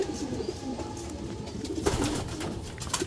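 Racing pigeons coo softly in a loft, several low burbling calls repeating at moderate distance over a faint background hum.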